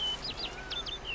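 Birdsong from The Witcher 3: a run of thin, high chirps and tweets in quick repeated bursts over a faint steady game ambience, with no voices.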